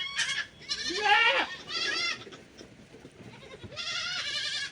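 Young goat kids bleat repeatedly at close range as they are let out of their pen, several overlapping high calls with short pauses between them.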